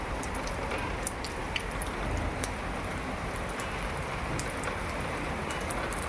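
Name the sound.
rain falling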